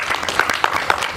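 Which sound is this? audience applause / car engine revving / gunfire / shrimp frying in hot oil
audience applause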